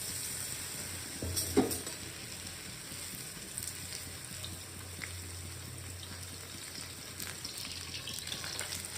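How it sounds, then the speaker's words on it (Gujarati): Boiled noodles coated in cornflour fry in hot oil for manchow soup, giving a steady, close sizzling hiss with a brief louder crackle burst early on. "આપણે એને એમાં નાખીને તળી લઈશું."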